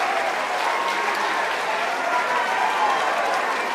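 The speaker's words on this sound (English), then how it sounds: "You can hear everyone is phenomenally excited here." A loud crowd applauds and cheers continuously at a SpaceX Falcon 9 Orbcomm 2 launch, a dense wash of clapping and shouting without pause.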